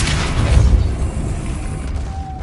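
A Depulso spell blast in the wizarding game Hogwarts Legacy, a single loud booming burst that rolls out and fades over a couple of seconds.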